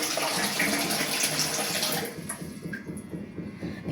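Tap water runs steadily into a container at home, a broad continuous rush filling the first two seconds before it eases and thins to lighter splashing and trickling.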